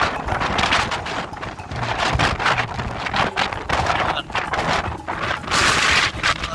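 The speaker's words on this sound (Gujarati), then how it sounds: "અમને ફોન માં સંભળાતા જશે એટલો પવન આવે છે." Strong gusting windstorm wind buffets a phone microphone in an open village setting, a continuous loud roar with rushing surges and bursts throughout.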